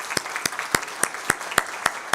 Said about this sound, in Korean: 저기 계신 우리 박수로 한번 환영하시죠